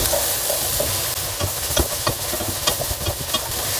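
Chopped vegetables, including hard cauliflower, frying with browned onions in a pan for a leftover-vegetable soup, giving a continuous sizzle with frequent clattering stirs and scrapes, especially in the second half.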